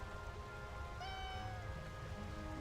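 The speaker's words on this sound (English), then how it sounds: "I actually have like 20 different meows." A single cat meow, played as a sound effect during a live World of Warcraft stream, rises briefly and sounds faint beneath a steady, rain-like hiss.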